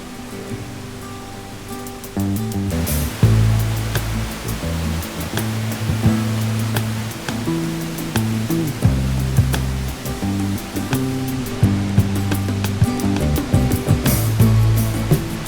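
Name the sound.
Giessbach Falls waterfall rushing, Switzerland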